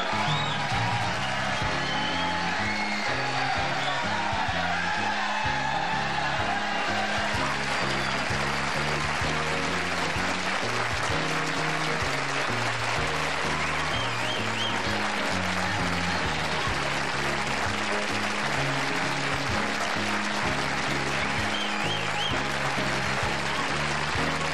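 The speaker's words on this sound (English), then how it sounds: "I'm humbled by that applause." Sustained, dense studio audience applause on a late-night television talk show, a loud continuous roar of many clapping hands with some cheering mixed in, steady for the full length without letting up.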